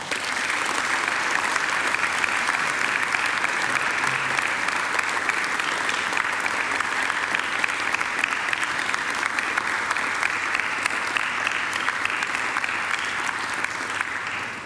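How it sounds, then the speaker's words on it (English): Graduates at a university graduation ceremony applaud their families and friends, producing dense, sustained clapping from a large crowd in a hall, loud and even for the whole stretch, with no speech over it. "And now I invite you to give them a mighty round of applause."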